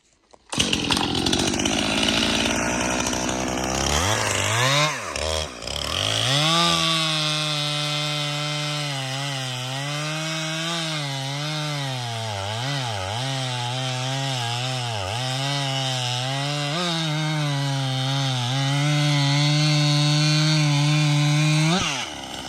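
A chainsaw roars steadily through rotten wood from a dying forest tree, the engine note dipping and recovering repeatedly as the chain bites in, loud and close for about twenty seconds with no talking.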